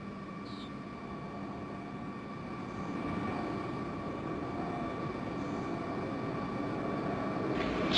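Space Shuttle Endeavour approaches for landing on its final descent toward the runway, a steady distant rushing roar with faint tonal hums, gradually building in loudness, no speech.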